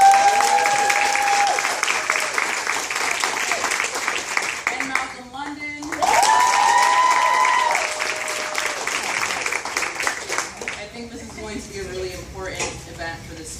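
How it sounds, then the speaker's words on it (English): An audience applauds a pair of guests at an anniversary homecoming event, a sustained wave of clapping that fades near the end, with a voice speaking over part of it. "So I want to give a sort of round of applause for our two guests, Philip Agnew."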